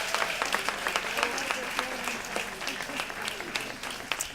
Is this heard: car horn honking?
no